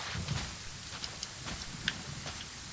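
Rain falls in the video game Genshin Impact as a steady hiss with scattered drop patters and soft splashes, moderately quiet and continuous without voices.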